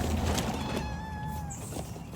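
A hungry stray cat by a dumpster gives one drawn-out, rising meow, close and fairly clear over a low background rumble.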